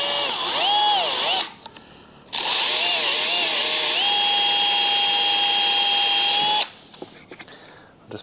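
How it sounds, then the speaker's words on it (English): A power drill bores into the casing of a dinghy's outboard motor, its loud whine wavering in pitch, pausing briefly, then holding a steady tone before cutting off into quieter handling noise. "drill a hole in your motor like so."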